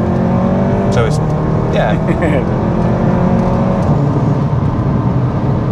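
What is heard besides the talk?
Stage 3 VW Golf R Estate engine accelerating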